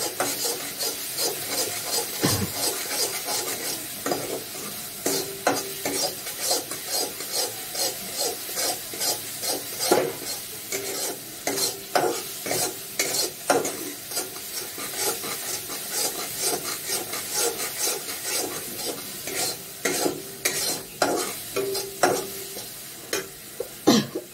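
Spice masala frying in a pan while being stirred for a homemade vegetable dish, a steady busy scraping and rasping of the spoon against the pan over a soft sizzle, close and continuous with no talk.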